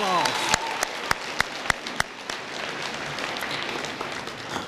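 Audience applause at a school assembly honouring a national blue ribbon school: a sustained, moderately loud wash of clapping with a few sharper individual claps standing out early on, carrying steadily to the end.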